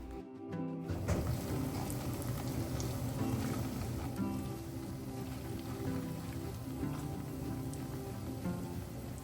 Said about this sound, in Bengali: ছানা থেকে আরও কিছুটা মিষ্টি বানিয়েছিলাম কালোজাম বানানোর জন্য, আর সেগুলোই এখন তেলের মধ্যে এক এক করে ছেড়ে দিচ্ছি।